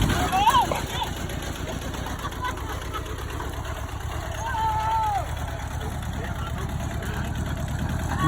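Tractor engine running steadily in high range eighth gear, a continuous close, loud drone and rumble throughout, with people talking over it.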